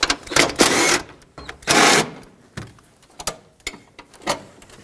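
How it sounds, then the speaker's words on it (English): A wrench works loose two 13mm bolts on a 2013-2020 Nissan Pathfinder during input speed sensor replacement, giving close, irregular bursts of ratcheting clicks and metallic rattles separated by short pauses. "Let's unbolt these two 13mm bolts."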